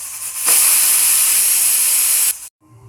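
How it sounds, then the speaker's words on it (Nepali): A pressure cooker holding goat trotter soup releases a loud, steady hiss of steam through its whistle for about two seconds, close up, then cuts off sharply into near silence. "सिटी लगाइदिने कुकरमा।"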